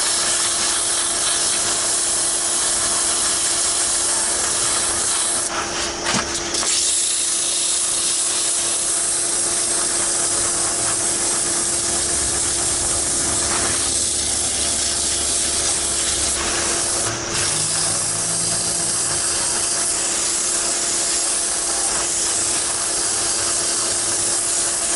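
Sandpaper rubbing a wooden wine stopper spinning on a lathe, a continuous hissing abrasion under a steady motor hum, close and even throughout with a few brief scraping accents.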